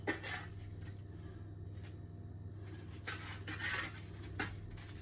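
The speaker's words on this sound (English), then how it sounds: "So I'm just gonna flip them back over to the other side so that they can get nice and crispy." Potato wedges are flipped over on a metal baking tray, with light scraping and clinking of a utensil against the tray over a steady low hum, a few sharper clicks standing out.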